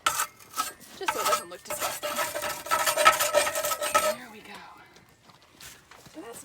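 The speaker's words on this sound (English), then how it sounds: "I'll try to scrape that off if I can." Rasping scrapes as chicken droppings are scraped off a perch inside a chicken coop: several seconds of dense, repeated scratching strokes up close, then fading into quieter, sparse scuffs.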